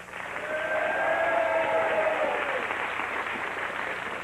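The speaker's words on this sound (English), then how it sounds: "let's give them a round of applause" Studio audience on a 1991 quiz show applauding two school contestants, a steady, somewhat distant wash of clapping with a faint tonal hum beneath it.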